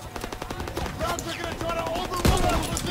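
Bursts of suppressive machine-gun fire in the World War II shooter Call of Duty: WWII, loud and close with rapid repeated shots, mixed with game voices and battle effects.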